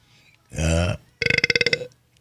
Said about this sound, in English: I did not mean to burp like that.